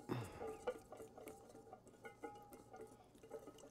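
Mustard, pepper and balsamic being whisked together in a bowl for a vinaigrette, with quiet repeated clinks and scraping taps of a utensil against the dish, low and steady throughout.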